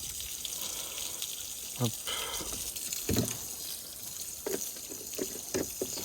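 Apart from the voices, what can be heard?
spraying professional shampoo spray on an Audi R8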